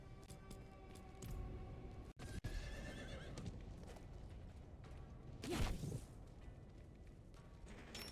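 A horse in the Diablo 4 video game neighs and trots, with a steady clip-clop of hooves running throughout and a rising whinny near the middle, all fairly quiet with no talk.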